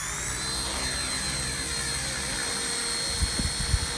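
A K110S RC helicopter spins up for takeoff and hovers, giving a steady high-pitched rotor and motor whine with a few faint knocks near the end.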